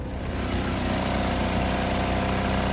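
A 2014 GMC Terrain with a 2.4-liter four-cylinder engine idles steadily, a close, even hum with a faint high whine and no voices.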